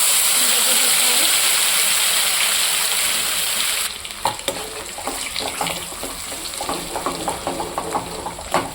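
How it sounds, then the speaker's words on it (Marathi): Ground masala paste sizzling in oil in a pan on medium heat while being stirred, a loud steady fry that turns into busier crackling with scraping strokes partway through, with no one talking. "आपण मीडियम गॅसवरच आपलं जे वाटण केलं आहे त्याला हलवायचं आहे"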